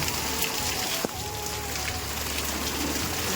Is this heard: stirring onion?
no